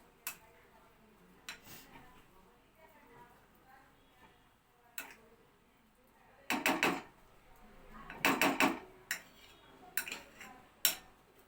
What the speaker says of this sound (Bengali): এটা আমি ভালো করে ব্লেন্ড করছি, মানে মিক্স করছি একসাথে